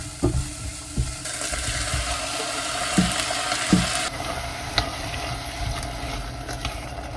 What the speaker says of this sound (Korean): 양파가 살짝 투명해질 때까지 볶아주면 돼요.